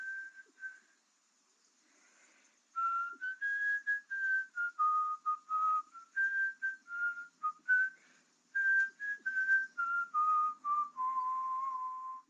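A person whistles a wavering melody of short and held notes, alone and fairly close. A quiet lead-in comes before the tune starts in earnest.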